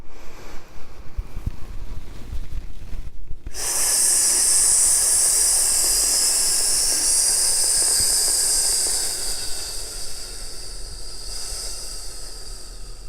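A long, steady, loud hissing 'sss' exhale, part of a Taoist lung healing breath, begins after a few seconds of quiet room noise, holds for several seconds, then tapers away.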